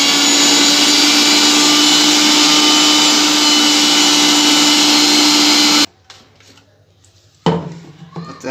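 A kitchen mixer grinder blends ash gourd into a juicy paste, a loud steady whir running for about six seconds before cutting off, followed by a few faint clinks and handling noises.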